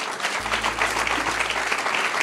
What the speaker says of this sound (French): Bonsoir, vous pouvez l'applaudir.